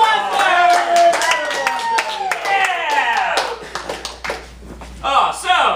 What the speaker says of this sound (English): Put together a round of applause